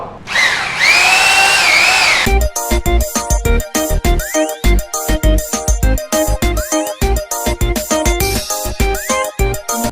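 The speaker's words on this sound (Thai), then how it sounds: "เจาะครับเจาะ" Power drill boring through a wall in a home room during handyman work, a long steady whine first, then many short rapid bursts of drilling and banging, loud and close, with no talk.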